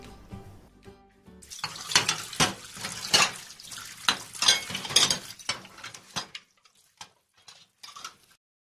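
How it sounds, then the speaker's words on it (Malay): Dishes being washed under a running tap at a sink, with bursts of flowing water and clinks and knocks of plates, fairly close, then tapering to scattered faint clicks. "Bak sini, I tolong basuhkan pinggan tu."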